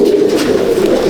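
Pigeons in a loft keep up a loud, close, rolling coo, a steady throaty murmur with no break and no talking.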